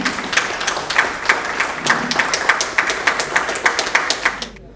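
Crowd applause at an outdoor exhibition opening in July, a modest group clapping in an uneven patter for several seconds before it fades out at the end, with no voices over it.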